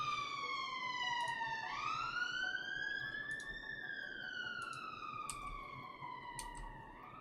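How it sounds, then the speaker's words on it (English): A police car siren wails in the Cities Skylines city-building game, a loud rising and falling tone sweeping slowly over several seconds with faint clicks and background hum. "Oh, sirens. Loud sirens."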